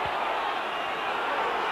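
Leeds versus Castleford rugby league crowd of 1995 roars in a dense, steady wall of shouting from the stands as fans appeal for a penalty, with no distinct single voice standing out.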